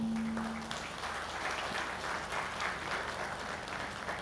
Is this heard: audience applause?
yes